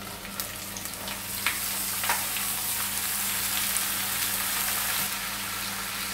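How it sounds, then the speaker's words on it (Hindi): Tomatoes sauté with onions in hot oil. A steady, close frying hiss continues throughout, dotted with small pops and crackles. "अभी इसमें टोमेटोज ऐड कर देंगे"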